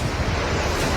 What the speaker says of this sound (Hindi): लहरों की आवाज ऐसी है कि जिसे सुनकर इलाके में दहशत का माहौल है